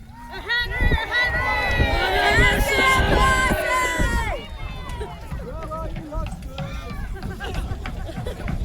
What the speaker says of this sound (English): cheer on your side. Let's hear who can be the loudest.